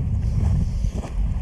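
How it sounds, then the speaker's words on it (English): Strong wind buffets the microphone with a low, rumbling roar that gusts unevenly throughout, on a motorcycle ride high in Portugal's Serra da Estrela mountains. "it's windy"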